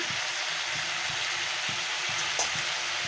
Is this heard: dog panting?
no